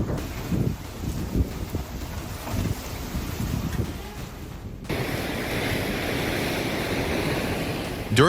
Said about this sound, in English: a coastal house collapsed into the ocean as powerful waves battered the shoreline